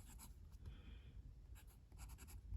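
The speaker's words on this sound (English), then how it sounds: "We'll do a very quick writing sample with these pens now." A Twsbi Eco fountain pen with a white body and steel medium nib, inked with Lamy black, writes a quick sample: faint, close scratchy strokes in short bursts over a quiet background.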